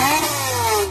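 A Ford F-250 gas V10 engine tuned to about 500 horsepower revs hard and close, its pitch sweeping in a rising howl before easing off slightly at the end.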